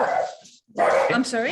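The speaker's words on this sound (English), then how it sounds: "Sorry, that's my dog." A pet dog barks at home, with a couple of sharp, close yips and a whimper-like tail, mixed with a person speaking over it.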